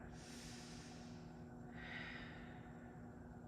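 A full, slow breath during a yoga heart-opening flow: a soft, close airy inhale and exhale, quiet and alone with no talking.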